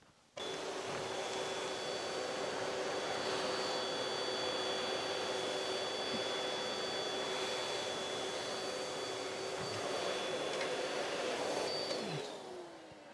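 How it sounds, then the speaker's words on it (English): A vacuum cleaner roars steadily with a constant whine, its nozzle rumbling faintly as it is pushed back and forth, then the motor winds down at the end. "Now, I've pushed two nozzles on the same vacuum cleaner the same distance."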